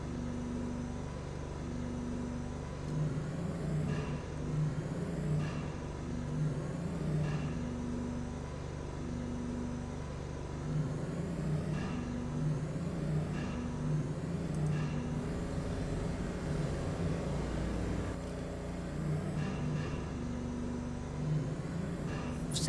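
Car driving in the Roblox game Funny Game 4, a steady low engine drone with a wavering hum and periodic swells, moderately loud and continuous with no talk over it.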